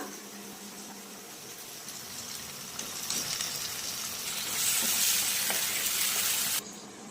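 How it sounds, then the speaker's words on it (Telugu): Marinated prawns going into hot oil with tomatoes in a pan for prawn biryani, a soft sizzle at first that swells into a louder, bright frying hiss near the end before cutting off. "ఇప్పుడు కలిపెట్టుకున్న రొయ్యలు తీసుకున్నామని దీంట్లో వేస్తున్నా."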